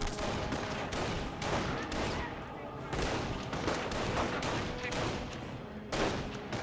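Battle in the Company of Heroes video game with MG42 machine gun fire: loud, dense gunfire in repeated bursts, heavy booms mixed in, steady across the whole stretch.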